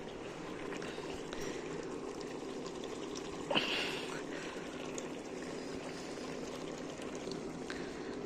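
Hot water pours steadily into a meat masala curry, a continuous soft rushing wash with a brief clink partway through.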